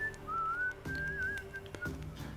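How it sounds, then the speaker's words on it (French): An NPC whistling in The Witcher 3, a clear wavering melodic whistle running for about two seconds over quiet game ambience with a few soft thumps. "Bien placé le sifflement juste après avoir fini ma introduction"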